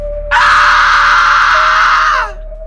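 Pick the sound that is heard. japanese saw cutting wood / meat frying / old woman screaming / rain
old woman screaming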